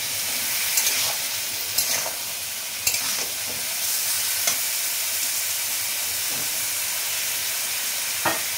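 Chopped ridge gourd, eggplant and potato frying in a pan with masala, a steady close hiss of sizzling oil broken by a few louder clatters and sputters, no talk.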